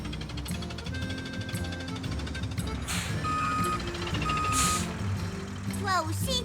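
A cartoon truck, a big tanker, reverses with repeated high electronic beeps over engine rumble and clanking mechanical sound effects, with a burst of squeaky noise near the end.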